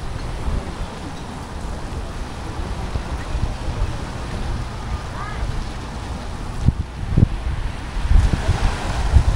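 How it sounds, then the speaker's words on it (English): Wind gusts across Lynnhaven Beach, rumbling and buffeting the microphone in a steady low roar with stronger bursts toward the end, while faint voices sit beneath it. "It's windy right now."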